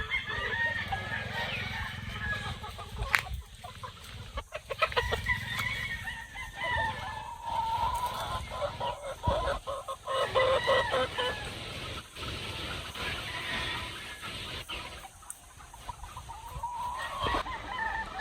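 Chickens and roosters of different breeds on a farm, with clucking and several roosters crowing near and far over steady outdoor background noise.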